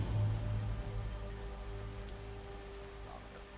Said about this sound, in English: The rain does feel nice on my skin.